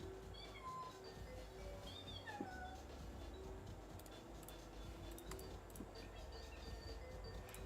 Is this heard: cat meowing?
yes